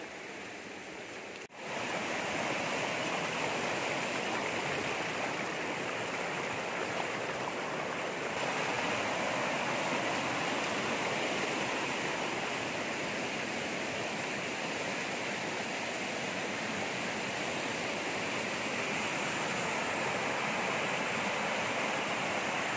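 Steady broadband rush of flowing water from a barangay water supply at a mountain farm lot with waterfalls, continuous and close throughout after a brief quieter start, with no voices.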